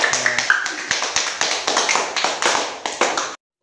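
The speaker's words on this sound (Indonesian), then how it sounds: "Tepuk tangan untuk kita semua." A classroom group of teachers in training bursts into steady applause, dense rapid clapping with a rhythmic pulse that runs close and loud for over three seconds before cutting off abruptly.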